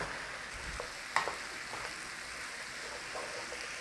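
Cauliflower tumbles into a hot curry pan for a chickpea and cauliflower curry, giving a steady, quiet sizzle with a brief clatter as the pieces land, then soft stirring scrapes under the frying hiss.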